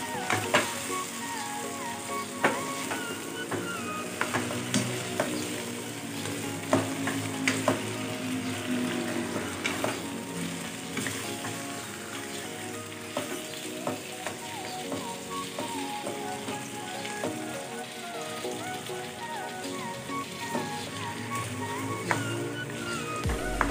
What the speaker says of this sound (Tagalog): ilalagay na natin itong chicken. Isasangkot siya lang natin itong chicken